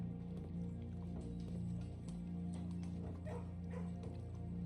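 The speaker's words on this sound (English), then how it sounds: "I gotta stop and pet the puppies." Puppies in the Blue Prince video game yip and whimper softly, with little barks scattered over a steady hum of background music.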